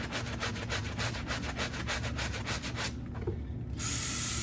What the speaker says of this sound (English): Spread that out so you can make sure that you're scrubbing all between there.